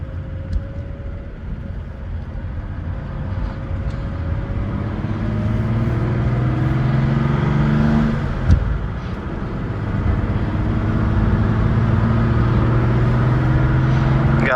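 A car engine hums steadily from inside as the vehicle drives along, rising and falling through gear changes, with a brief thump partway through.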